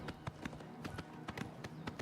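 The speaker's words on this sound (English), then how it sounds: "we look pretty cool riding a horse" Horse hooves beat in a steady galloping rhythm while riding in the video game Oblivion Remastered, repeating thuds heard quietly over background game sound.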